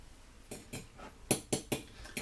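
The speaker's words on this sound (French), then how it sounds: "Avec notre fourchette, on mélange le tout." A fork clinks against a bowl, whisking egg, crème fraîche and grated gruyère in about eight quick, close, rhythmic taps.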